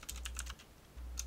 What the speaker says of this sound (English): Yeah, my fucking typing comes out great.